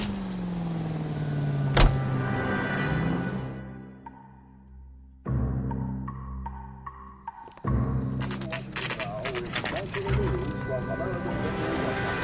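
A car driven in the video game LA Noire hums along with a steady engine drone, while a sharp click, shifting tones and a game soundtrack sit on top of it and voices talk nearby.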